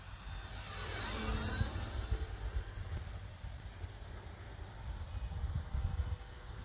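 A small electric model airplane, an Arrows Bearcat, whines overhead, its buzzing motor rising and falling in pitch as it passes, with steady outdoor background noise.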